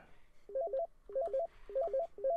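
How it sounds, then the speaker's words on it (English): Repeating bursts of electronic phone tones from a video game, four quick groups of stepped beeps spaced evenly over a soft background hum, fairly loud and close with no talking. "Oh, it's the phone."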